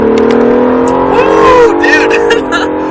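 An Acura NSX engine pulls hard at full throttle, its harmonics sweeping upward and holding loud and close throughout, with someone talking over it.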